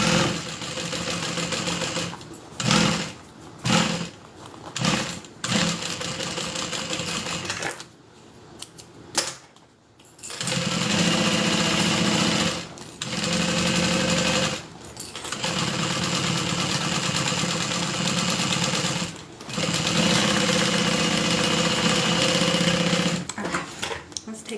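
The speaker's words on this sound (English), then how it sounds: "We're just gonna go ahead and sew this down" A sewing machine stitches the inside and outside of a handbag together, a steady, close mechanical whirr running in long stretches broken by brief pauses.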